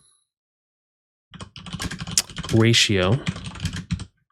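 Computer keyboard typed on in quick, uneven bursts of close clicks while a question is entered, with a person talking over part of it.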